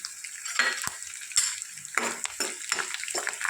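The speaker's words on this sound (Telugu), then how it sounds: "చూడండి ఇలా కరివేపాకు కూడా యాడ్ చేసేసుకున్నాం కదా చక్కగా ఇలా ఫ్రై చేసుకోవాలి" Curry leaves crackling in hot oil tempering for pulihora, sputtering in bursts with intermittent sharp pops and the scrape of a spoon stirring the pan, close and moderately loud.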